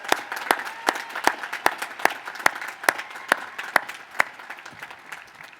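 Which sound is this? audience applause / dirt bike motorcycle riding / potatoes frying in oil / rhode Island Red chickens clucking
audience applause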